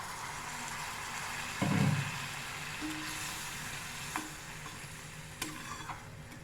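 Tomato masala thinned with water sizzles quietly in a pan while a spatula stirs it, with a louder scrape early on and a few sharp clinks against the pan.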